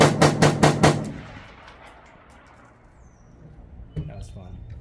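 A Romanian RPK rifle fires a quick burst of four sharp, loud shots at steel targets outdoors, followed by a fading tail of echo and a faint distant ping about three seconds later.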